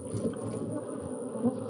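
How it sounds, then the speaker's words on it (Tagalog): A dense swarm of bees buzzing as a drama sound effect, a steady low droning hum that fills the space without pause, close and even, with a faint high whine above. "Ang mga alagang bubuyog ni Primo, lalong dumami"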